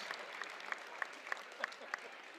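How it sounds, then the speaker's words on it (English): Home fans clapping for a Carterville Lions player at a high school basketball game at Nashville, a steady wash of applause with a few sharper claps standing out, fairly faint, with a commentator talking over it. "Gets a round of applause from the fans here."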